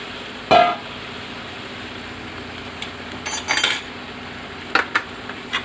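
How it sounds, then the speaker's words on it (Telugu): Marinated fish pieces (salt, turmeric, ginger paste) go into a pan for curry, with a few sharp clinks of utensil on metal, separated by quiet pauses, over a faint low background hiss. "ఉప్పు, పసుపు, అల్లం పేస్ట్ వేసి కలిపి పెట్టిన ఫిష్ ముక్కలు వేసుకుందాం."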